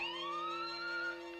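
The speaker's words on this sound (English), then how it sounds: "The alarm!" A cartoon alarm siren wails in a rising, steady electronic tone over a low hum, sounding briefly and fairly faint before easing off at the end.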